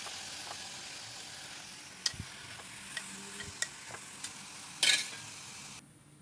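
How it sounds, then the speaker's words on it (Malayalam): Onions sauté with salt in a pan, a soft low sizzle with intermittent scraping stirs and spoon taps, one louder scrape near the end before the sound cuts off. "അതിലേക്ക് സവാള ഇട്ട് കൊടുക്കാം സവാള കൂടെ ഉപ്പും ചേർക്കാം അതൊന്ന് വഴണ്ട് വരുമ്പോഴത്തേനും"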